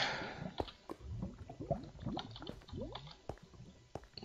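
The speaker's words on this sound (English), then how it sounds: "Now I hear water." Water flowing and trickling in a cave in the video game Minecraft, with liquid gurgling and dripping textures heard fairly close and alone, no talking.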